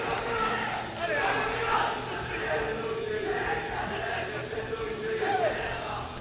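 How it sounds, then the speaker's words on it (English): French fans in the arena at a world bench press championship cheer loudly for their lifter: a continuous dense roar of shouting and whooping voices, steady throughout with rising bursts. "There's a lot of noise from the crowd."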